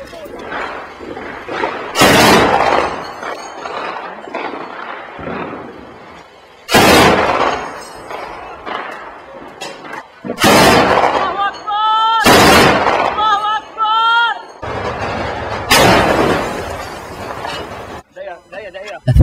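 Gunfire in battle clashes between rebels and regime forces in a city, with sharp loud bursts breaking out at irregular intervals amid voices and a narrator speaking between the shots.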